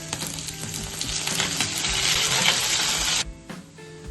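Green chilies and curry leaves hit hot oil for lemon rice, giving a loud, steady, close crackling sizzle for about three seconds before it abruptly drops to a quieter, fainter spatter, with no talking.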